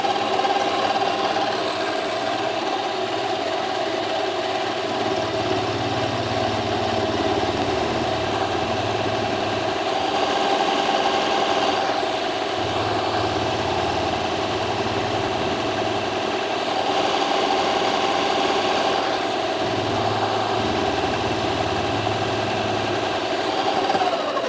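A metal cutting machine fitted with a Vevor dividing head takes a cut with its cutting tool, giving a steady motor drone with a constant whine and slow periodic low swells. No one speaks.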